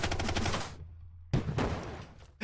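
Bursts of automatic gunfire in the video game Brick Rigs: a rapid rattling volley, a short silent gap, then a second loud burst, close and sharp.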